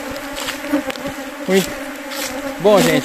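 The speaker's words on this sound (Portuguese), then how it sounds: "Pensa nas abelhas bravas." Angry honeybees buzzing around hives during honey harvesting, a dense continuous drone of many insects close by with individual bees swelling louder as they pass, while someone speaks briefly over it.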